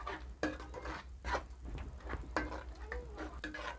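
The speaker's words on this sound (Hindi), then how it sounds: "अब इसमें हम डालेंगे दही, इसको ऐसे चलाएंगे" A spoon stirs yogurt in a cooking pan for Indian dahi bhindi, soft repeated scraping and clinks against the metal at an uneven rhythm, close and fairly quiet with a low hum beneath.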